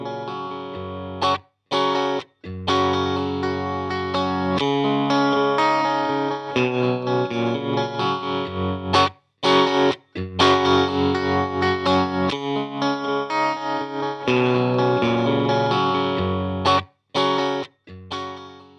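Electric guitar loop runs through an amp with a tremolo effect, distorted and effected, playing continuously with a few brief gaps, fairly loud and alone with no talk.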